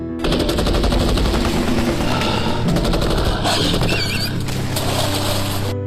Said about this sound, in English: the Japanese soldier picked up his submachine gun and fired wildly